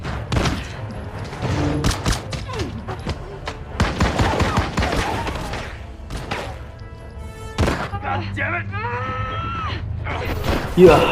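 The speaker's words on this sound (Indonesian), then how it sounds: "Edward tewas dengan tembakan Scott" Rapid bursts of gunfire crackle amid loud clattering and thuds in a film scene, with brief shouts and a ringing tone near the end.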